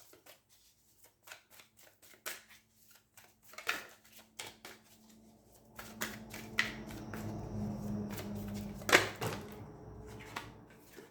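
Tarot cards being shuffled and handled in a quiet room, with soft papery riffles and slides that thicken into a steadier run of shuffling toward the end, plus a sharper snap near the close.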